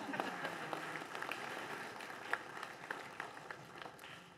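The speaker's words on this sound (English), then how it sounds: "let's give our choir a nice round of applause" A church congregation at a confirmation service gives the choir soft, scattered applause that stays fairly faint and distant, with individual claps standing out now and then.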